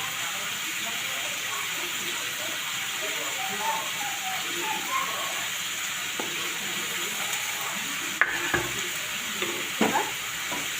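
Carrot pieces fry with potatoes in a pan for chicken stew, giving a steady soft sizzle with a few scraping stirs and clinks late on, close by and even in level with no talk over it.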